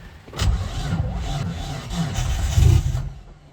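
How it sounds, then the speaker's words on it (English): A Nissan R33 Skyline with a newly fitted Walbro 255 fuel pump cranks and catches, then runs with a rough, uneven rumble that swells briefly, loud and close. "She's gonna go. She's gone. She's went. She's running."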